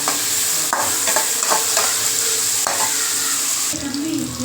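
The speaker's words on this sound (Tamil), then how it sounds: "இப்போ இது வெங்காயம் பூண்டு கருவேப்பிலை எல்லாம் போட்டு நல்லா வதங்கிட்டோங்க" Onions with garlic and curry leaves sizzle loudly in a hot pan, the continuous hiss broken by several scraping strokes of a spoon stirring them.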